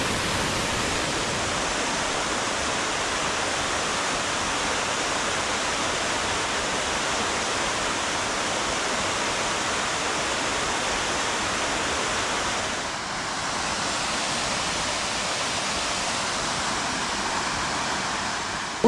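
Broad, steady roar of a waterfall in the Olympic National Park rainforest, loud and continuous throughout with a faint dip partway, no voices.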